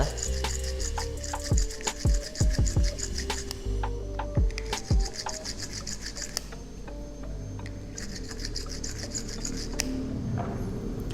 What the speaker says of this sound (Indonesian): kemudian kita haluskan lagi dengan menggunakan trimmer